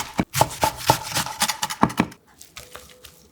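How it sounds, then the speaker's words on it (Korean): A knife chops blanched spring cabbage (bomdong) on a cutting board: a quick run of about a dozen sharp, close chops, then it goes quiet with a faint clink. "물기를 꽉 짜준 후 듬성듬성 3cm 간격으로 썰어 가로로 2번 잘라주세요"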